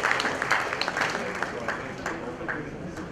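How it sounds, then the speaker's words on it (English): A conference audience at a banking conclave applauds after a presentation, producing a continuous, fairly loud rattle of clapping hands with voices faintly mixed underneath. "I would like to give a big round of applause for it"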